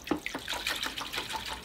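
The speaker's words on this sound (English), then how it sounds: "I've got a bucket of water here, so now I'll swish my roots around in it, getting them nice and clean." Bonsai roots from a young tree swished around in a bucket of water, giving a short burst of sloshing and splashing close to the microphone, with no talking.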